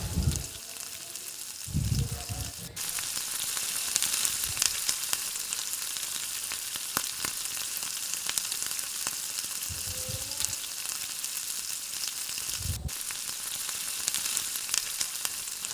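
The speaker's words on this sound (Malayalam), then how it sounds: "പഞ്ചസാര നന്നായിട്ട് മെൽറ്റായി വരുന്നവരെ നമുക്കൊന്ന് ഇളക്കി കൊടുത്തുകൊണ്ടേ ഇരിക്കാം" Sugar melting with strawberries in a pan, a steady soft sizzle throughout with a few low scraping stirs and clunks of the spoon, no talking.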